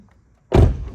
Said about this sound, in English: door opens and closes perfectly